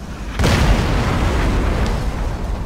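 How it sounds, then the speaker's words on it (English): An explosion in the video game Crysis Warhead, a sudden loud boom that then rolls into a long, heavy rumble lasting a couple of seconds, with no talk. "But the explosions kind of look cool when they happen."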